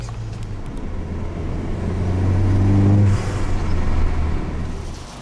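A Bugatti car engine runs steady and close with a rising rev around the middle, then settles back to a loud idle, with no talking over it.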